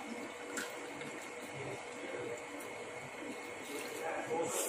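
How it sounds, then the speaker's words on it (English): Homemade lemon juice drink is poured into a glass, a continuous liquid trickle and splash lasting several seconds at moderate level. "now pouring it in the glass"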